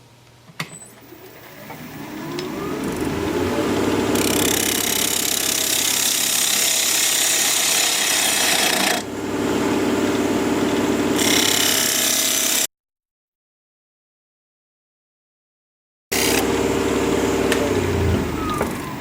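A wood lathe spins at 2,000 RPM while a half-inch standard-grind bowl gouge cuts a maple burl bowl, giving a loud, grinding, chattering whir that briefly dips, cuts out completely for a few seconds, then resumes.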